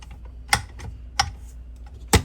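A paddle attachment clicks into a stand mixer and the head lowers into place as cookie dough is started, giving three sharp, close mechanical clicks and clunks spaced apart over a quiet background.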